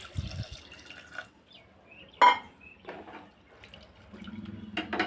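Water splashes and pours into a pressure cooker amid clinks and knocks of cookware, a quiet kitchen scene with short bursts of running water.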